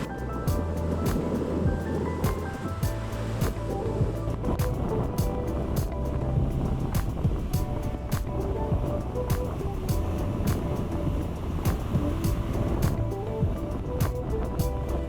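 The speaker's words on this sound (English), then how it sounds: "Waves out here are a little bigger, a little stronger, a little more dangerous." Ocean surf rolls in steadily at a St. Augustine, Florida beach, the bigger, stronger waves making a continuous loud wash with low rumble throughout, close by and unbroken.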